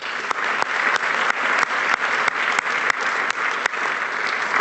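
An audience at a talk event claps steadily for the sponsor IBK Capital, a dense, even round of applause with sharp individual claps standing out throughout.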